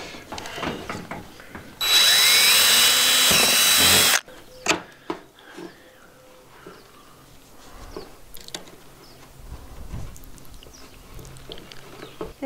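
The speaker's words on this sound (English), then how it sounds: "Got to drill a hole in the PVC." A power drill whines loudly for about two seconds as it bores a hole through PVC, followed by scattered clicks and handling noises.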